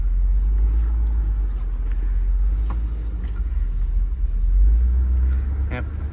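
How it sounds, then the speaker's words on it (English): A 2009 Chevy Suburban on a test drive, heard from inside as a steady low road and engine rumble with brief clicks and rattles, no clear talking. "So right now we're taking for a test drive."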